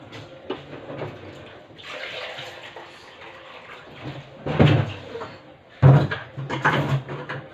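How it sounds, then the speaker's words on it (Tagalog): Water poured from a tap into a cooking pot to prepare rice, a gushing splash that comes in several bursts with short pauses, close by, alongside faint knocks of the pot. "Lagyan ko nito ng tubig."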